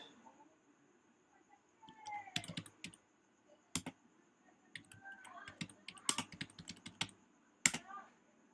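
Close, crisp clicks of a computer keyboard come in uneven clusters as Bangla is typed phonetically into Photoshop, with quiet pauses between the bursts.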